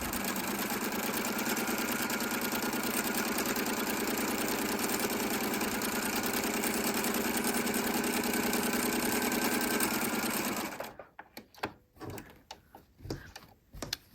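Sewing machine stitching pintucks with the presser foot lowered, a steady loud mechanical whir running continuously for about ten seconds before stopping abruptly, followed by a few quiet handling clicks and rustles.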